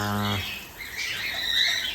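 Shrill, scratchy cockatiel squawks and chatter while the birds bathe, with splashy, broadband noise throughout; a brief harmonic call opens, then rough squawking continues close by.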